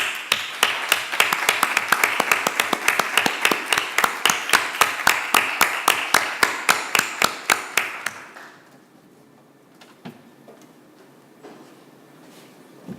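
An audience at a human rights course claps in unison, a rapid, even run of loud, sharp rhythmic claps for about eight seconds that stops abruptly, leaving quiet room noise with a few scattered taps.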